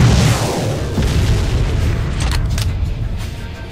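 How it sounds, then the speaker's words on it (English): A recoilless anti-tank weapon being fired on a range in the military video game ArmA II Operation Arrowhead. A loud, close boom opens the clip and decays into a long rumbling tail with faint crackles. "Pick up this recoilless anti-tank weapon and use the optics to aim down the range."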